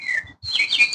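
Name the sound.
birds chirping outside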